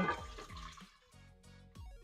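Water for cooking rice splashes and gurgles into a pot or rice cooker in a short, fairly quiet burst of liquid sounds with no talking.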